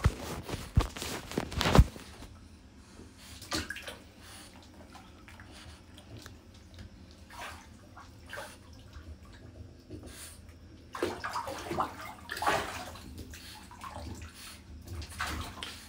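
A dog being bathed in a bathtub, with irregular bursts of splashing water, loud at the start and again near the end, with quieter dripping and sloshing in between.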